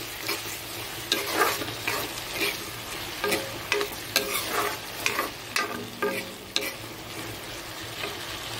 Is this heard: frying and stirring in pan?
yes